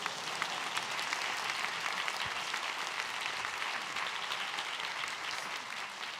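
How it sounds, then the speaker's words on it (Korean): Steady applause from a large congregation at a church prayer service, dense and continuous clapping throughout with no voices standing out. "박수로 맞이하겠습니다"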